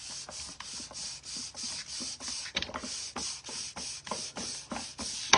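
Wax rubbed by hand across a wooden cutting board being distressed for Christmas decor, a steady run of close, rhythmic scrubbing strokes repeating about every third of a second, dry and scratchy, with no talking.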